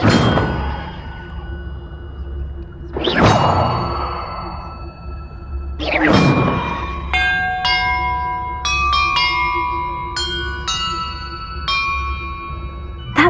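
Bells chime in a puzzle in the video game Hogwarts Legacy: a few separate ringing strikes, then a quicker run of bright, clear tones rung in sequence, each note sustaining and overlapping the next.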